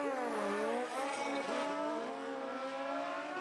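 Kawasaki ZX14 motorcycles at a drag racing finals event, a loud continuous high-pitched engine whine with shifting pitch that fills the whole stretch and stays close and dense throughout.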